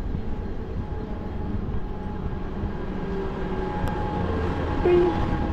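A local commuter train pulls into a suburban railway station on the Virar line, a steady broad rumble of wheels and carriages rolling in close by, with a brief higher squeal of braking near the end.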